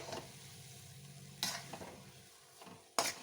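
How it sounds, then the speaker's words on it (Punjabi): Raw turmeric panjiri roasting in a kadai, quiet continuous dry sizzling and scraping as it is stirred, with a couple of sharp clanks of the spatula against the pan. "ਇਹਦੀ ਭੁੱਜਣ ਦੀ ਨਿਸ਼ਾਨੀ ਇਹ ਹੈ ਕਿ ਇਹ ਕੜਾਈ ਦੇ ਨਾਲੋਂ ਅਲੱਗ ਹੋਈ ਜਾਂਦਾ ਹੈ"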